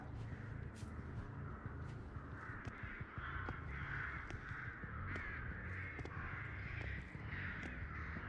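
Crows cawing in a Dead by Daylight match, repeated harsh caws over a constant low ambient rumble, fairly quiet and distant, with no talking.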